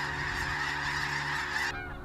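Wild geese in Florida honking in a dense, loud, continuous chorus of overlapping calls that cuts off abruptly near the end, leaving a quieter tail.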